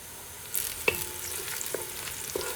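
Onions browning with masalas in a pan for Anglo-Indian trotter curry fry with a steady sizzle, broken by a few sharp scraping stirs of a spoon, close and moderately loud, with no talking.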